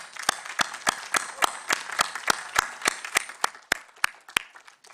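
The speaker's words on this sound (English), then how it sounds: "give them a round of applause" Sparse, distinct hand claps from a small audience at a film gala screening at COP26, sharp separate strikes at an uneven pace, fairly quiet, thinning out toward the end.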